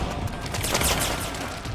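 Rapid gunfire in Metal Gear Solid 4, a dense continuous burst of shots lasting under two seconds, close and loud with no talking.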